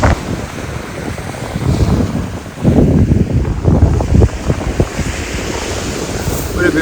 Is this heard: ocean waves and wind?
yes